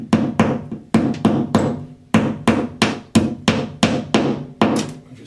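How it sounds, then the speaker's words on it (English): A small lady's hammer tapping a molly anchor and center punch into a wall while installing a vanity light, about a dozen sharp, close metallic taps in uneven bursts with short pauses, no talk. "I just have a center punch, a little lady's hammer here. I'm just going to make a little hole."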